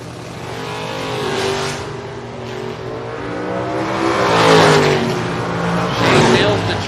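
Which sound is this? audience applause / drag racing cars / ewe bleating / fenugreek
drag racing cars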